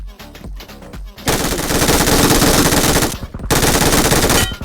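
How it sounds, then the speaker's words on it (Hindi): Machine gun fire in BGMI / PUBG Mobile, loud dense sustained bursts with a brief pause between them, preceded by quieter in-game clatter and footsteps. "और पोरा चला रहा होता है एमजी"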